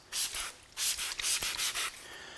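Several short hissing bursts of a Quasar spray bottle misting deionized water, in quick pumps with brief pauses, close to the microphone.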